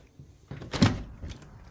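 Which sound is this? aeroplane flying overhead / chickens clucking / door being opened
door being opened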